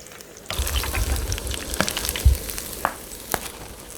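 Pieces of shiitake mushroom deep-frying in hot oil for a temple-style sweet and sour dish, a steady close sizzle and crackle with sharp pops as pieces drop in one by one.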